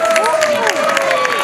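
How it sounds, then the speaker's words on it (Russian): Festival audience at a comedy club show cheering, whooping and applauding, a loud continuous wash of clapping with rising and falling whoops carrying above it. "под ваши бурные, конечно же, улюлюканье и аплодисменты"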